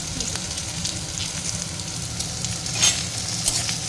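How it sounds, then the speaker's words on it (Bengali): Onion and tomato frying in a pan for dal, a steady close sizzle with a gentle bubbling texture and one brief flare of crackle, continuous and without talk. "পেঁয়াজ আর টমেটো দিয়ে গোল্ডেন হওয়া পর্যন্ত পেঁয়াজটা একটু ভেজে নেব"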